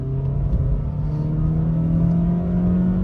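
A 2023 Honda City CVT with a 120 bhp naturally aspirated i-VTEC petrol engine pulling hard, a continuous loud engine drone heard from inside the car, rising steadily in pitch across the run.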